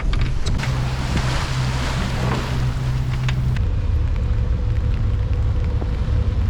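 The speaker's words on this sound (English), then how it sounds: "We're going by engine and just the mainsail to keep the balance" A sailboat's engine drones steadily with only the mainsail up, beneath loud wind buffeting and water rushing past the hull in the Cyclades, Greece, the low motor hum continuing throughout.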